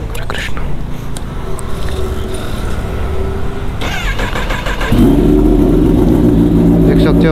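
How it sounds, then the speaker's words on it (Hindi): Kawasaki ZX-10R motorcycle cold start: voices chatter over light background noise, then the engine fires up abruptly and settles into a loud, steady, throbbing idle close by. "कोल्ड स्टार्ट सुनो भाई, क्या लाउड है भाई"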